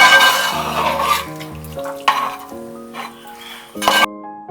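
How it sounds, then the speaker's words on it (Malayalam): Stirring a Thrissur-style tapioca and chicken curry in a pan, with spoon scrapes and clinks against the metal amid a soft sizzle, while background music plays. "ഒന്നുകൂടി നന്നായി ഒന്ന് ഇളക്കി കൊടുക്കുക."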